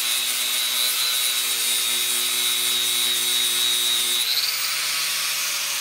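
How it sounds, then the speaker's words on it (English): A power sander grinds steadily along the edges of metal during a school bus roof repair, with a high, whining buzz, loud and continuous, shifting pitch slightly near the end. "now he is sanding down the edges"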